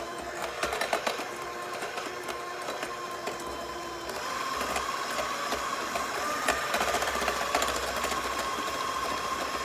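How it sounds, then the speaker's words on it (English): An electric kitchen mixer whirs steadily as it beats coconut pie batter with flour added, a continuous motor hum with faint rattling that grows slightly louder partway through. "I'm going to stop my mixer for just a minute"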